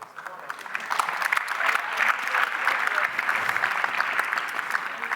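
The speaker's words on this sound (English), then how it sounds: "magnificent round of applause, please, for that group" Audience applause at an award ceremony swells from a softer start into a full, steady roar of many clapping hands, with a possible voice underneath.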